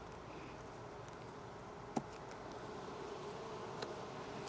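Honeybees buzzing in an open hive during an inspection, a faint, steady droning hum with a couple of soft clicks, no voices.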